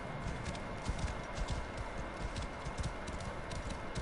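Horse galloping in the video game Assassin's Creed Origins, a rapid, steady run of hoof beats under a dense, noisy background, with no talk.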